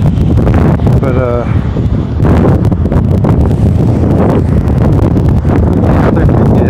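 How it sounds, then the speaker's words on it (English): A strong wind blows loudly and steadily into the microphone, with rumbling gusts and rustle through the whole stretch and a voice speaking faintly underneath. "it's very windy right now."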